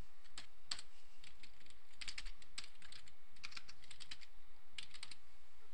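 Typing on a computer keyboard to enter a value label in SPSS, with several short bursts of crisp key clicks separated by brief pauses. The clicks are close and fairly quiet, and nobody speaks.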